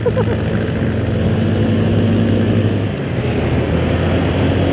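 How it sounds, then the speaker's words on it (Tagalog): Several motorcycles pass close on a busy road, their engines merging into a loud, continuous low drone with a steady pitched hum that shifts midway, heard from riding among traffic. "Daming motor oh."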